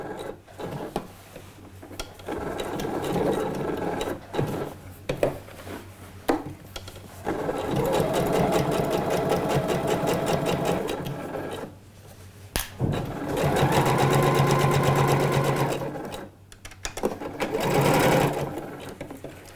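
A sewing machine runs a curved seam along a trouser pocket in several bursts of rapid stitching, the two longest each lasting a few seconds, separated by short pauses and small handling noises.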